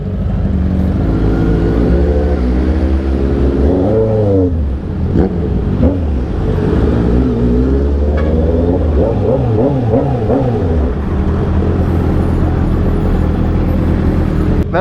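Road traffic in heavy congestion around a Honda CB650R motorcycle, with loud engine rumble, passing vehicles swelling and fading, and repeated revving sweeps close by.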